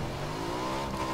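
Motorbike engine in the video game PUBG, a steady mid-pitched drone that rises slightly in pitch over a short stretch, no voices.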